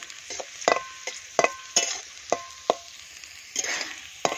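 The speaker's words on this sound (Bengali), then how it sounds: "এই দেখো, ফ্রাইড রাইসের জন্য আমি এটা একটু ভেজে নিলাম।" Ingredients for fried rice frying in a pan, a soft sizzle underneath repeated sharp clinks and scrapes of a spatula being stirred, close and irregularly spaced.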